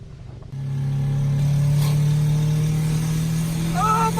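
A Subaru with a turbo engine revs while driving, its low steady drone kicking in abruptly and holding loud and even as the car pulls, with a faint high whine near the end.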